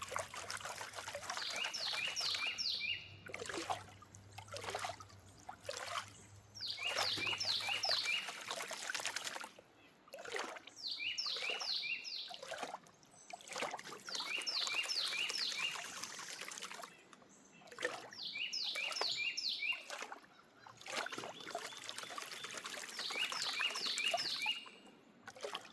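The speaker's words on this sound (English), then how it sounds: "We can just listen to the birds." Birds singing in repeated short phrases beside a calm river while out gold prospecting, clear chirping bursts every few seconds over soft trickling water.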